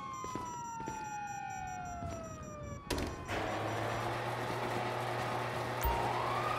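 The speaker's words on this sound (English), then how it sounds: "you hear that? Sirens." Police sirens wail in GTA V, several falling tones sweeping over each other, then a sharp bang gives way to a steady engine hum and dense noise, with no talk heard.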